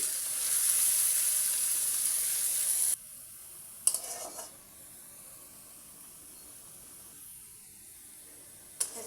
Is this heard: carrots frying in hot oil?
yes